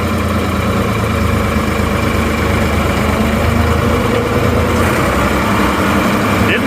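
A Ford backhoe's engine runs steadily and loudly at close range while third gear is tried, a continuous rumbling drone with no change in pace.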